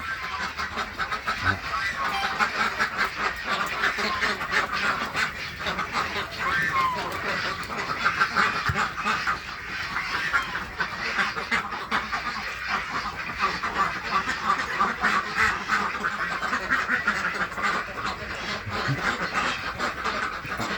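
Yi-Liang ducks quacking steadily on a duck farm during egg collection, a dense continuous chorus of many birds nearby, with a person talking over it throughout.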